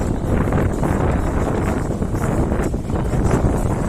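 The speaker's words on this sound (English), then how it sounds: "Got a little bit windy" Strong wind buffets the microphone in a constant roar with gusting swells, heard outdoors while climbing a hill above Benidorm.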